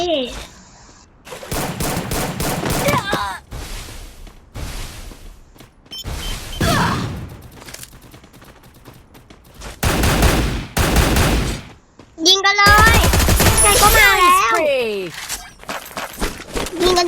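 Gunfire in a video game, bursts of rapid shots and crackling volleys in several loud clusters, mixed with excited voices and shouting throughout.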